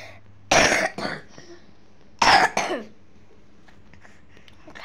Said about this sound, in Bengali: খালি কাশি হয়েছে